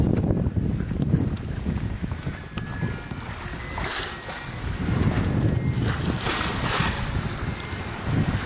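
Near the equator, a sailboat runs under full sail with jib, Yankee and main up as wind rushes and buffets steadily, with water washing along the hull; no one speaks.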